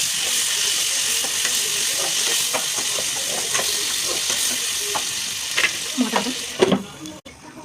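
Tomatoes with salt fry in a pan while being stirred, a continuous close sizzle with soft scraping strokes and a few louder clatters of the utensil toward the end.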